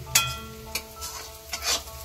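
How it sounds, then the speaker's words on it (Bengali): Onions frying in a large wok, with a low continuous sizzle under several distinct spatula strokes and scrapes, about four stirs spread across the moment. "এখানে পেঁয়াজ ভাজা হচ্ছে"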